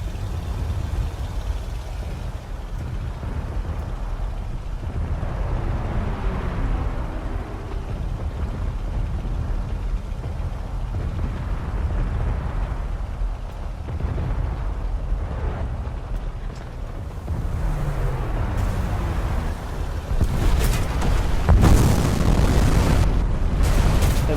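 Explosions rumble through a torpedo bomber attack on enemy battleships in War Thunder's Pearl Harbor historical campaign, heard as a dense, continuous low roar with booming swells under engine drone, loudest near the end.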